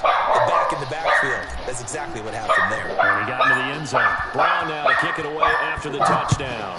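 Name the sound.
dogs barking and whimpering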